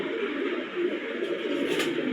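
Pet pigeons cooing close by, a soft, continuous throaty murmur lasting a couple of seconds, with no talking over it.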